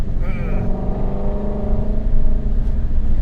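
A 2016 Ford Mustang Shelby GT350R engine under way on the road, a loud rising growl with tonal harmonics swelling and fading as it accelerates, heard from inside with occupants.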